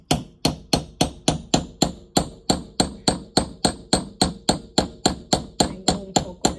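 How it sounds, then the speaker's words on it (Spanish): A hammer strikes a ceramic mug in a steady rhythm, about three sharp, ringing blows per second, close and loud, with no talking. "Voy a seguir dándole otros martillazos a ver qué pasa."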